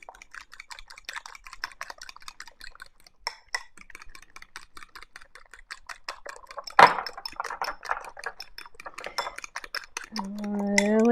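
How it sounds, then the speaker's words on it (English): Eggs and a banana being mixed in a bowl, with a steady patter of utensil clicks and scrapes against the dish, one sharper clatter partway through, and a louder tonal hum rising at the end. "And I am going to mix that up"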